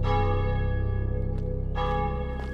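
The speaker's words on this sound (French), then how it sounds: "la cloche se met à sonner" A church bell rings steadily with rich, sustained overtones, loud and close, its tone swelling again partway through with no voices.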